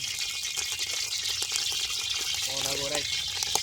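Oil with water in it hisses and spatters in a frying pan during village cooking. The crackling sizzle is bright and continuous, and a voice briefly speaks over it near the end.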